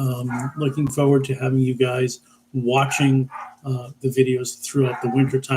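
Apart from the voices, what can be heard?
dogs barking in the background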